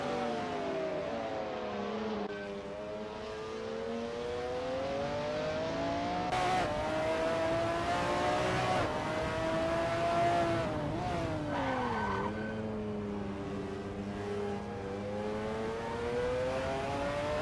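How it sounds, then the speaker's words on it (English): McLaren F1 GTR race car engine at Daytona in a racing game, a loud steady high-revving roar with smooth pitch sweeps through shifts and braking, sustained throughout with no voices. "That ASRL McLaren F1 GTR looks good driving through T7"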